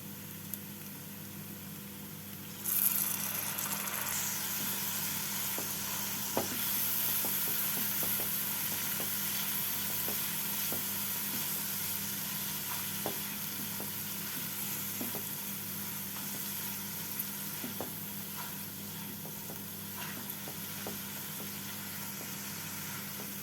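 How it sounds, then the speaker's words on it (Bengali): Spice masala with a little sugar being sautéed in a pan after a splash of water, a sudden hiss that settles into a continuous close sizzle with scattered light scraping and tapping of a spoon, no talking. "এবার অল্প জল দিয়ে মশলাটাকে কষিয়ে নেবো"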